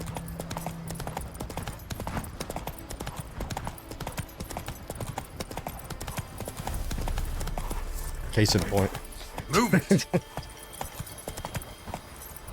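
A horse gallops in The Witcher 3, a steady clip-clop of hooves carrying through the clip while someone talks over the game sound.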